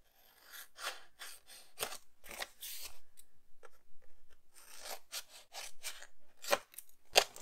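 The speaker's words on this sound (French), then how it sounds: "je prends mes ciseaux et je vais découper ce qui gêne." Scissors snipping the corners of paper for a scrapbooking erasable memo board, a series of crisp close cuts and scraping snips in irregular bursts, quiet and alone.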